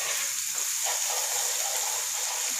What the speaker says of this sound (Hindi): अब इसमें हम लहसुन अदरक का पेस्ट डालेंगे। इसे इतना पकाना है कि इसकी कचाहट ख़त्म हो जाए